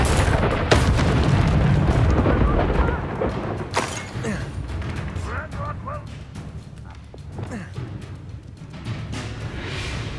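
A spell clash in the Hogwarts Legacy video game, with heavy booming bursts and rumbling impacts early, then lighter magical crackles and effects while voices speak over the action.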